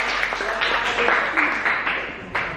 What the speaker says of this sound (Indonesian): tepuk tangan untuk temannya ya.